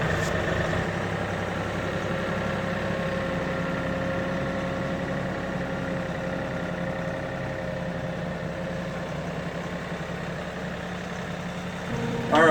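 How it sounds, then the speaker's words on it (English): A tractor engine in four-wheel drive runs steadily while backing down a hill, a continuous loud low rumble with little change throughout, ending in a sudden louder burst. "I got it in four-wheel drive and I'm backing it down the hill"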